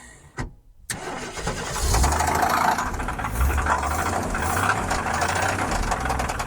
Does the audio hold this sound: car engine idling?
yes